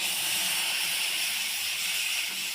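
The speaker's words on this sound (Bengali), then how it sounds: "কড়াইতে জল দিয়ে দেবো" Water poured into a hot kadai on a gas flame gives a loud, steady hiss of steam that holds evenly throughout, close and unbroken, with no voices.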